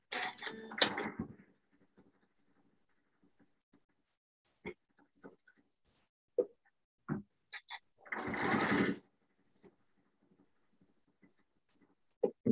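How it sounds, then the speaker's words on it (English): A sewing machine bastes a denim heart pillow in short, separate bursts of rapid mechanical stitching. The runs are close and fairly loud, with quiet pauses and small handling clicks between them. "I am basting the other one"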